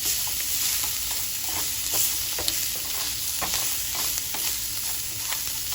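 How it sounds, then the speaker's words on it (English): Food searing in a hot pan for jambalaya grits, a continuous close sizzle with frequent light crackles and occasional utensil taps, no talking. "So now we are searing"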